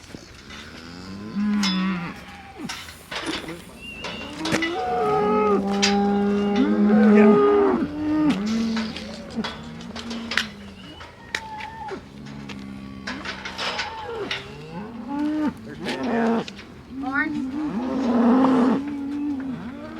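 Dry dairy cows moo repeatedly and loudly up close while a herd is driven along, with long drawn-out calls overlapping one another, plus brief human speech now and then.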